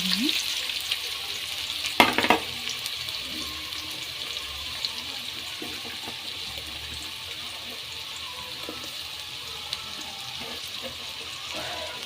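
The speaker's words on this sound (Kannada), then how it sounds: "ಈಗ ಸ್ಟವ್ ಆನ್ ಮಾಡಿ ಪಾತ್ರೆ ಇಟ್ಟು ಆಯಿಲ್ ಹಾಕಿ ಈ ಆನಿಯನ್ ಹಾಕೋಣ" Onions frying in oil in a pan over a high flame, a steady sizzle with a sharp burst of spatter early on as they hit the oil, then softer stirring scrapes continuing under the hiss.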